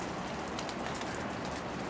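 Steady rain falls outdoors around a black vulture nest site, a dense even patter of drops on surfaces that continues unbroken and fairly close, with no voices.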